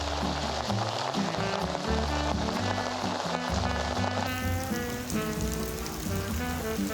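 Night rain falls at Sensoji temple in Tokyo, a steady, close patter and hiss blended with tonal, music-like sounds throughout.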